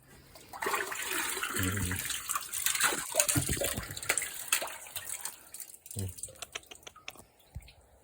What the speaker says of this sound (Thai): ดูครับเทคนิคการตักน้ำ